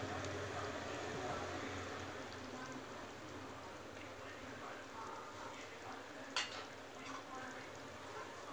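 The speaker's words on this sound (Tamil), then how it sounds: "நல்லா கொதிக்க விட்டுறலாம் ஃப்ரெண்ட்ஸ்." Fish curry (meen kulambu) simmering in a pot, giving a steady, fairly quiet bubbling and sizzling hiss throughout, with one brief sharper clink near the end.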